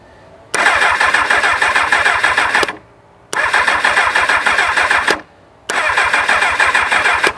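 A 1999 Kawasaki ZX6R motorcycle engine fires up in three short runs of about two seconds each, split by brief silences. Each run is loud and close, with a steady rapid low pulsing under a broad mechanical roar.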